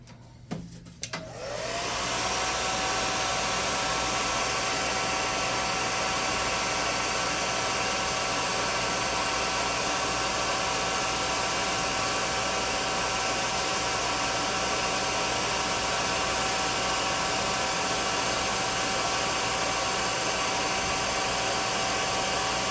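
A hair dryer blows steadily on a freshly painted tabletop miniature, a loud continuous whoosh with a high motor whine that starts after a brief fumble and runs unbroken to the end, with no talk.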